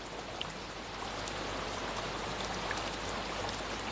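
Continuous watery wash of sea waves, a steady hiss with faint bubbling and splashes, fairly distant and even throughout.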